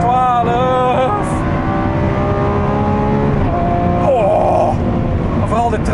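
A Lamborghini Aventador SVJ V12 engine roars and revs, its pitch rising and dropping through gear changes, loud and close, with brief higher whines between pulls.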